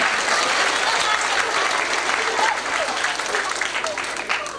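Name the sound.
applause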